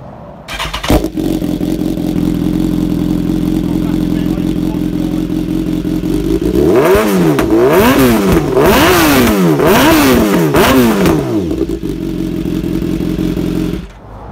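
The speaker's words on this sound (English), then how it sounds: "so we can give you an idea of what that exhaust sounds like" A 2017 BMW S1000R motorcycle with a full Akrapovic exhaust idles loudly with a sharp blip at the start, then revs hard several times in quick succession before settling back to a rumbling idle.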